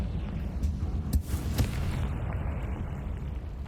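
A Confringo fire spell from Hogwarts Legacy bursts twice in quick succession, a sharp blast followed by a second explosive crack, then fades into a low rumbling ambience.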